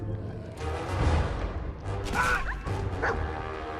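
Dog in the Fallout 4 video game barking and yipping in several short bursts with whimpers, heard over game background sounds at moderate volume.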